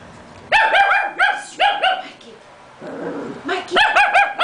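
A dog barks in quick repeated bursts, close and loud, with a pause of quieter rustling in between before another run of barks.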